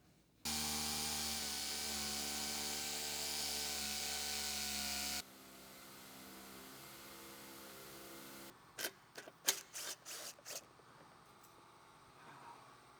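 A power saw whines loudly and steadily while cutting off the rear bumper of a Lexus GX460, then stops; a quieter hum follows, then a burst of sharp, irregular knocks and clatter.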